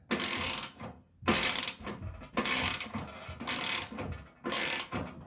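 A Sunex 1/2-inch drive, 80-tooth low-profile chrome ratchet with teardrop handle clicks in five quick, close bursts of fine rapid ratcheting separated by short pauses, with no talking.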